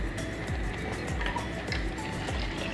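A thin trickle of water pours steadily into a container, with faint splashing and a few soft knocks underneath.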